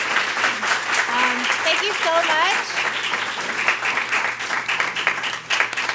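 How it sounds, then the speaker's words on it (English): Audience applause for conference speakers, a steady wash of clapping that starts full and slowly thins, with a voice speaking briefly over it early on. "a round of applause for our amazing speakers."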